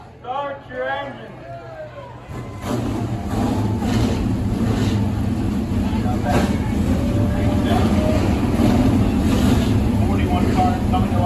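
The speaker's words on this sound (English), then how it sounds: "41 cars coming to life." Engines of 41 race cars start up together at the Fonda 200 race, filling the air with a loud, sustained roar after a brief spoken command at the start.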